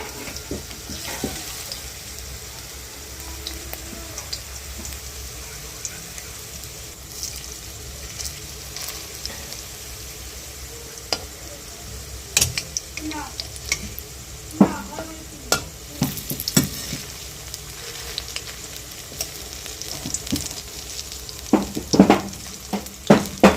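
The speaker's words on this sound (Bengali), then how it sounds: "দেখুন এগুলো একটু পকোড়ার মতো করে ভেজে নেওয়া হচ্ছে" Onion pakoras deep-fry in hot oil with a steady bubbling sizzle, broken by frequent sharp clinks and scrapes of a spoon or slotted ladle turning them in the pan.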